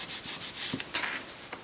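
Dry rubbing of a hand or cloth corner across the back of a rubber stamp, a handful of short scratchy strokes in quick succession, close and fairly quiet with no talking.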